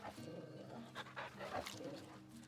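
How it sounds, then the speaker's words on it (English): Torgal, a dog in the video game Final Fantasy XVI, pants steadily in quick breathy rhythm, faint and close amid soft game ambience. "Who's a good boy, Torgal?"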